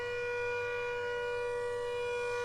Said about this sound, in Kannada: ಬೆಂಗಳೂರಿನ 35 ಕಡೆಗಳಲ್ಲಿ ಇದೇ ರೀತಿ ಸೈರನ್ ಮೊಳಗಿದೆ